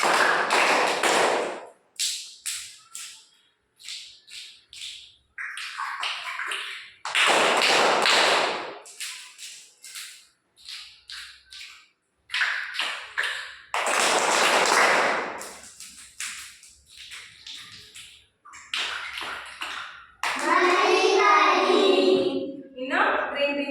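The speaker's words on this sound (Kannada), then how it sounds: "ಮೊದಲನೇದಾಗಿ ನಲಿ ಕಲಿ ಚಪ್ಪಾಳೆ 1 2 3 ಸ್ಟಾರ್ಟ್" Rhythmic Nali Kali hand clapping in a classroom: sharp, close clap bursts in patterned groups, alternating with a speaker's voice giving instructions and counting between sets.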